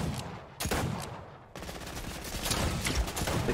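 Rapid bursts of gunfire in the video game Fortnite, a quick volley, a short pause, then sustained automatic shots, loud and close.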